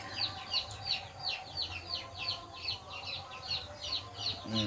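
Repeated soft clucks from young chicks, steady and close, with chirpy calls over a low background hum.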